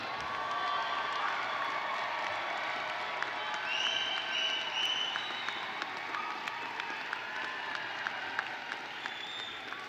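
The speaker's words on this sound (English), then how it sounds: "Give them a round of applause." An audience at a university graduate commencement ceremony applauds graduates' families, sustained clapping mixed with scattered cheers and crowd noise, heard from a distance and fairly faint throughout.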